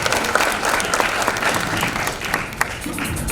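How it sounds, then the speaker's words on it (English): A crowd at a stage event with Anurag Kashyap, Tabu and Nawazuddin Siddiqui breaks into sustained applause, dense clapping with scattered sharper claps and a faint voice near the end. "Could we have a huge round of applause, ladies and gentlemen?"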